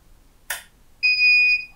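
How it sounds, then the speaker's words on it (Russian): Neptun Smart leak protection controller sounds its alarm after a simulated leak from a wired sensor: a short click or rustle, then a loud, steady high-pitched electronic tone held for about half a second, close by. "Вот, сработала тревога."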